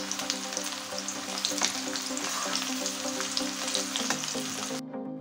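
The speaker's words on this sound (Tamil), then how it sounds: "ஜிஞ்சர் கார்லிக் நல்லா ஃப்ரை ஆகட்டும்." Steady, dense sizzling of chopped ginger and garlic frying in hot oil, close and continuous, with occasional stirring before it cuts off.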